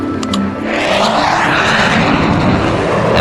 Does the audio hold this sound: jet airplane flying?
yes